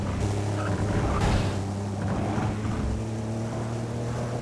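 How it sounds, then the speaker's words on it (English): Ford Capri RS3100 engine idling in Need for Speed: World, a steady low burbling drone with a slightly uneven throb, close and moderately loud, with a brief swell of noise early on. "That's a very different idle sound."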